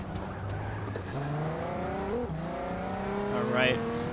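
A race car engine in the Forza Motorsport 6 driving game revs and climbs through gears in repeated rising pulls, with a brief tire squeal, under a player's talk.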